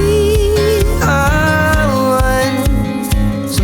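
A steady shaker rhythm enters alongside an arpeggiated guitar in a full song mix, the shaker's crisp repeated shuffles riding over plucked guitar notes and the band, loud and even throughout.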